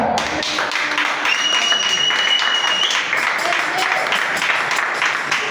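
A church congregation breaks into sustained applause and acclaim, a dense, steady roar of clapping and raised voices that holds throughout.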